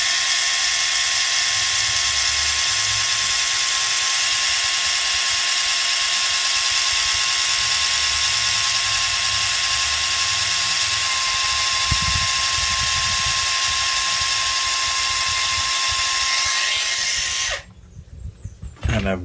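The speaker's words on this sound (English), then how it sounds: "my drill with a very fine drill bit on it." A small electric drill with a very fine bit bores holes in a wooden model-ship cradle, its steady high whine running loud and unbroken for about seventeen seconds before cutting off.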